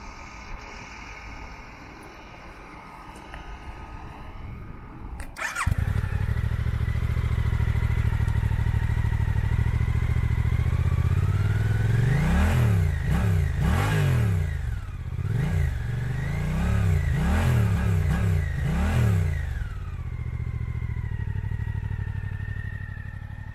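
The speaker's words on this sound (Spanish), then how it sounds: "ya solo queda arrancarla y a ver qué tal suena" A 2024 Suzuki GSX-8S motorcycle engine cranks and starts, settles into a steady idle, then revs up and down several times in quick bursts before returning to idle.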